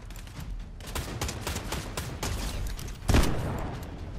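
Rapid bursts of Fortnite video game gunfire crackle in quick succession, dense and continuous, with a louder blast near the end.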